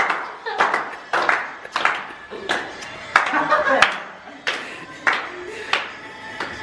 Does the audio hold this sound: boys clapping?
yes